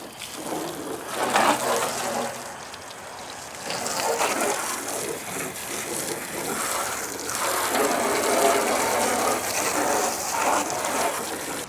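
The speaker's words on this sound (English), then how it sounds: "those dirtier areas are definitely rinsing off a lot faster now" Water rinses off a coated car, a steady close spray hissing and splattering with surges in force, running continuously.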